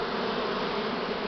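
A large swarm of Buckfast honey bees fills the air with a dense, steady buzzing drone, loud and unbroken throughout.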